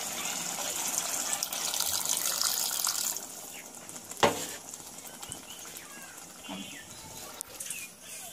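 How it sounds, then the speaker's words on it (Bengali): Water pours into a curry pot of beef with split chickpeas for the gravy, a continuous close gush that thins out partway through, with a sharp clank and scattered small clatters afterward. "এবার আমি পানি দিয়ে দিচ্ছি ঝোলের জন্য।"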